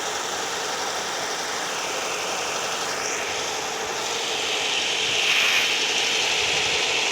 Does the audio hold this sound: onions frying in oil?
no